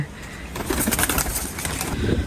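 Pigeons of a small breed coo softly at close range, a few low throaty calls with faint rustling and wing movement in the background.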